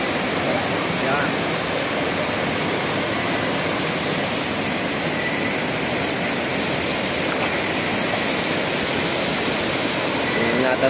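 Mayang Falls pours in a constant, full roar of rushing water, close and steady throughout with no break.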